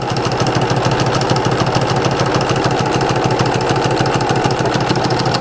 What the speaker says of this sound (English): So I'm going to go ahead and sew it.